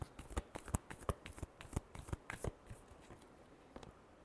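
Tarot cards being shuffled by hand, a quiet close run of rapid riffling snaps and flutters that thin out toward the end.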